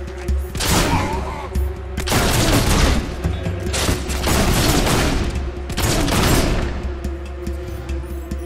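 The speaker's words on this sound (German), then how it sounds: "die Schusswaffe ist voll lächerlich. Das ist wie ein Maschinengewehr" Rapid bursts of firearm gunfire in Fable 2, a machine-gun-like stream of shots coming in several loud volleys with short gaps, booming low thuds underneath and a steady low game hum throughout.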